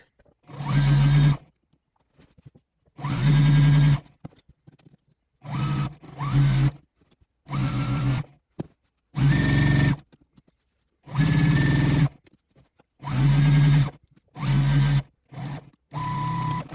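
A domestic sewing machine stitches a twisted four patch quilt in loud, close bursts of steady whirring, each lasting one to two seconds and separated by short quiet pauses, with occasional light clicks between runs.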